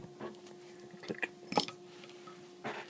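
A plastic EC3 connector housing snapping into place, heard as a few faint, sharp clicks and small mechanical ticks, close by, with a brief louder click in the middle and no talking.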